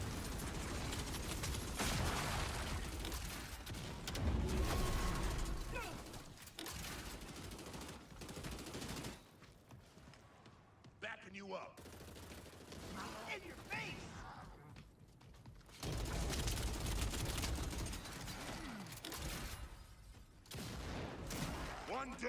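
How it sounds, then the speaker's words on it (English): Rapid gunfire in the Gears of War video game, dense bursts of automatic fire and mechanical clatter with louder and quieter stretches over about twenty seconds, mixed with game voices and talk. "taking fire"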